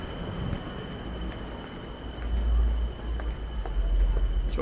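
Interior of an Ankara metro train in motion, with a steady low rumble and rising rolling noise through the carriage, plus a faint high electrical whine; no talk.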